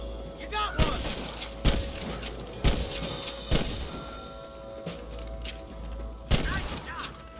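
Gunfire from a Red Dead Redemption shootout, sharp shots and booming reports every second or so amid battle ambience, with a voice speaking under the firing.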